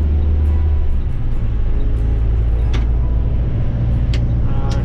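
A bus engine pulls in low gear on a snowy mountain road, giving a loud, close, steady rumble with a constant low drone and a few faint clicks on top, with no talking.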